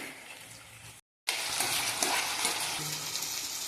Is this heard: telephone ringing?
no